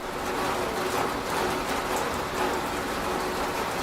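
Steady rain pattering on a house roof and surfaces, a dense continuous hiss with scattered drops, moderately loud and close throughout.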